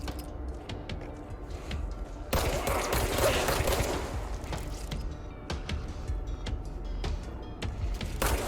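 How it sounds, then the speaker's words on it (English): Rapid bursts of gunfire from a magic gun in the video game Control, clattering automatic shots with crashes and impacts, loud and close, in several volleys with brief gaps. "I have a weird magic gun and I'll use it."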